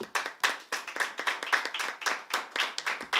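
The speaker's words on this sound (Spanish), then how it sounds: "Y aplaude, como dice." An audience claps after a poetry reading at a book presentation, with brisk, dense hand claps, close and lively, overlapping in an uneven rhythm for the whole stretch.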